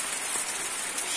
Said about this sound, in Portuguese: Chuva, chuva, coisa boa